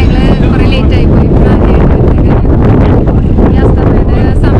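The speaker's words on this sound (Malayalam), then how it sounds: "ഇവിടെ ഭയങ്കര കാറ്റാണ്" Strong wind at Kanyakumari at sunset, buffeting the microphone with a loud, continuous rumbling roar that gusts unevenly for the whole stretch.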